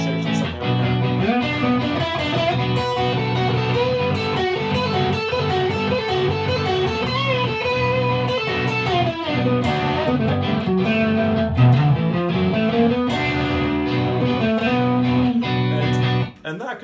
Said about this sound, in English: just practice soloing over the top, practicing those like minor pentatonic shapes